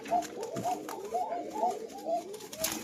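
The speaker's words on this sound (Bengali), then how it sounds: "আমরা এখন আপনাদেরকে আরেকটা কবুতর দেখাচ্ছি জোড়ার সিস্টেম" Pigeons cooing in a cage during pairing, several repeated soft throaty coos close by in an uneven rhythm, with no talking.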